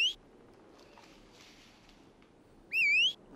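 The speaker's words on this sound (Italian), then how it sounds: "dove cazzo è il cavallo? Basta fischiare." A short, bright two-note whistle for a horse in a Western video game, heard at the start and again louder near the end, with faint game ambience in between.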